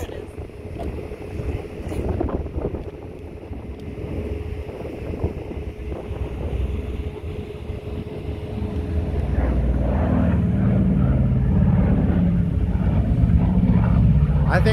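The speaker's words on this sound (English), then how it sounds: "I think that's a B-52." A four-engine bomber, a B-52 or B-17, passes overhead at a Barksdale Air Force Base airshow in Shreveport, its engine drone building to a loud, steady roar with wind noise on the microphone and spectators talking nearby.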